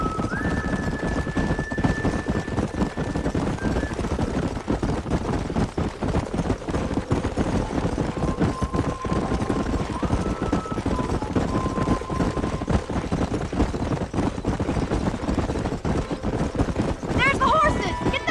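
Horses galloping in Red Dead Redemption, a steady rapid clip-clop of hooves running through the whole stretch, with game voices talking over it and a few tonal music or effect notes.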